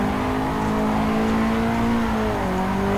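In the Assetto Corsa driving sim, a Nissan 180SX drift car's engine drones loudly and steadily, its pitch holding and then dropping slightly as the revs ease during a slide around the track.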